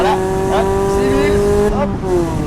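A Mazda MX-5 engine revs hard on an uphill road, its steady high-pitched tone climbing and shifting, with someone talking over it throughout.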